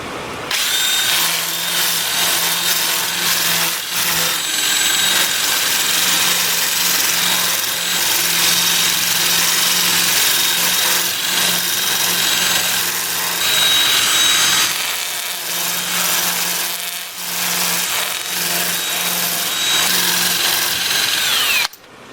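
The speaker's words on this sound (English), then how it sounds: "I'll try and sand the turned parts, which is here and here and here, with it spinning." Steady whir of a wood lathe spinning a turned piece of scrap apple wood while sandpaper is held against it, a continuous close rubbing hiss over the motor hum with slight dips and swells, no talking.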